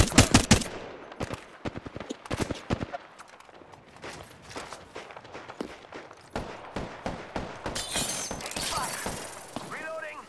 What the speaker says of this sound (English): Opening fire. I'm taking fire.